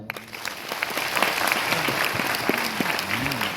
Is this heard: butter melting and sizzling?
no